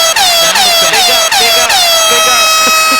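Air horn sound effect played on radio, loud repeated blasts that come in quick succession, each with a falling tone, and the last one held longer.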